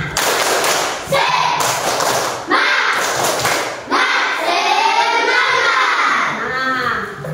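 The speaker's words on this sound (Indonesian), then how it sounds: "untuk lebih semangatnya kita tepuk semangat dulu." Children in a classroom doing a rhythmic spirit clap in bursts of claps and thumps, with kids calling out and chanting between rounds.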